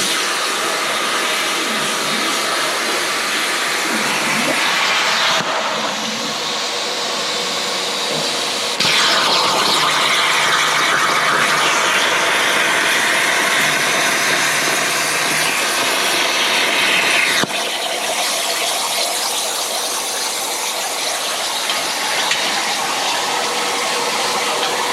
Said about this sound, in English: We're gonna fire the torch off here